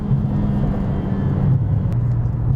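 A 2020 Mercedes CLA45 AMG engine drones steadily under acceleration, loud and close from inside the car, a continuous low rumble with no voices over it.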